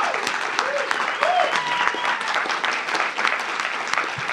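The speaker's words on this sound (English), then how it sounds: "hopefully he's dumping my audio down as I applaud" A podcast audience applauds for the show's audio engineer, Chris Baruff, steady sustained clapping with a voice talking over it.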